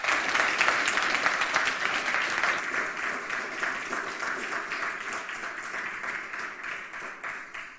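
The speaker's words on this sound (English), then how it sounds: "So please give her a round of applause." Audience applause fills a conference hall at the CCC hacker congress, a dense, steady wash of many hands clapping that stays loud throughout and slowly tapers toward the end, with no talking over it.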